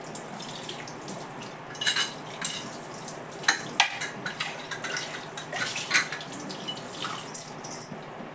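Hand-scrubbing of an aluminium pressure cooker with Pitambari powder and water, close wet rasping strokes in an irregular rhythm with small metallic clinks and splashes, no talking.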